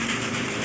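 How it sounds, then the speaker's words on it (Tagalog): Heavy rain pours down in a dense, unbroken hiss that stays loud and even through a brief moment, with no voices. "Lakas ang ulan."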